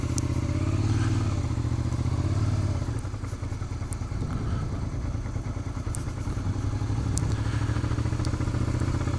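A motorcycle pulls away in first gear, its engine rumbling and rising in revs, loud and near, with clattering mechanical noise and no voices.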